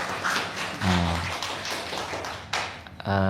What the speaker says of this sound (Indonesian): tepuk tangan dulu buat kita juga